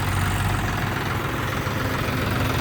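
A Sonalika 50 tractor engine idles close by in a loud, steady low rumble that holds unchanged throughout, with no voices over it.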